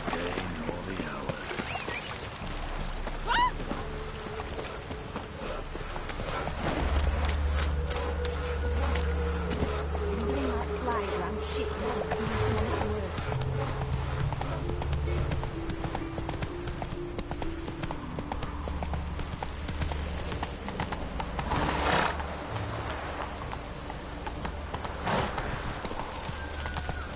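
Hooves of Roach, the horse in the video game The Witcher: Wild Hunt, clip-clop in a steady rhythm over a low ambient game score, with a brief whinny-like sound and faint water or wind textures.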